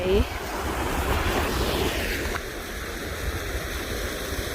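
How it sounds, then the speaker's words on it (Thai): A continuous wash of flowing water and sea surf over rocks rushes steadily, fairly soft and unbroken. "น้ำไหล"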